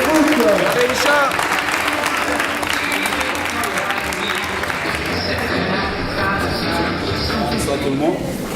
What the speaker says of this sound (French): On applaudit bien fort Richard pour le foot.